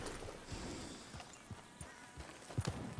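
Horse hooves clip-clop in Red Dead Redemption 2, with a steady walking rhythm of soft, close thuds that grow louder and quicker toward the end.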